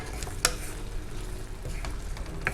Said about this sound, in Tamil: அந்த மாதிரி கிண்டி விட்டுக்கோங்க.